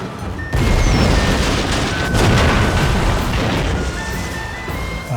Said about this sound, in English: Mighty steam-powered ironclad warships armed with torpedoes make naval battles much more destructive.